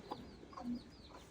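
A hen clucks softly in a household yard near Tongi, Gazipur, giving a few short, quiet clucks spaced across about a second, faint and close with no talk over them.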